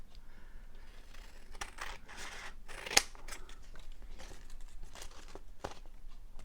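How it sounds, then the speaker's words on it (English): Scissors snip through material at close range in a series of crisp, irregular cuts, with one sharp metallic click partway through and light rustling and crinkling between the cuts; no speech. "Can I just cut that, do you think?"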